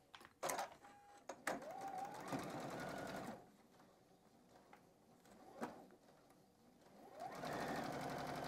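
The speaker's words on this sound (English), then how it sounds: "just take a moment and sew 2 of your squares together, or your units together now" A sewing machine stitches two quilt squares together in short bursts of rapid mechanical whirring, separated by pauses and a few clicks and handling sounds, close and fairly loud.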